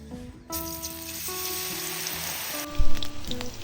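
Battered spiral potato chips deep-fry in a wide pan of oil, giving a steady, fairly loud hiss and crackle throughout, with music playing over it and a brief louder burst near the end.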